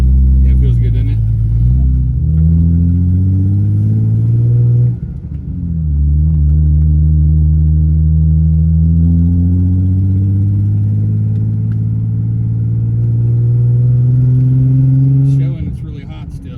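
A car engine hums and drones loudly up close while driving in hot weather, its pitch rising and falling with throttle changes and easing briefly midway before climbing again.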